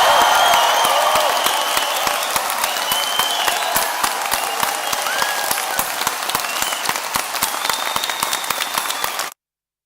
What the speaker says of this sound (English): One last cheer for everybody.